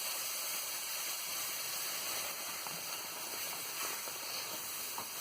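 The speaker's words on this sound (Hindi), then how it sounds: "अब इसमें शीरा डालूंगी। आप प्लीज बी केयरफुल इसमें डालिएगा, इसके छींटे बड़े आते हैं।" Sugar syrup poured slowly into hot roasted atta for halwa, giving a steady, fairly loud hissing sizzle with faint crackles and spatter throughout, no voices.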